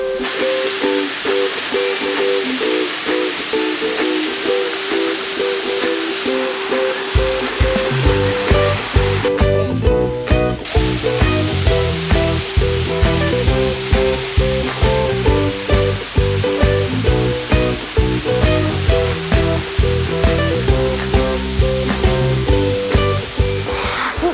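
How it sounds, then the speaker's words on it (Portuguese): Steady rushing roar of the Cachoeira do Recanto das Acácias waterfall, loud and continuous throughout, with a dense rhythmic layer joining after the first few seconds that may be music or splashing. "Esse aqui é o nosso lugar especial, a Cachoeira do Recanto das Acácias."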